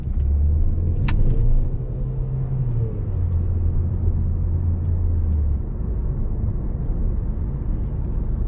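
A 2020 Mercedes-Benz A180 (W177) pulls away with a brief wheel spin, a steady low engine rumble heard from inside the cabin that rises and then eases off, with no talk.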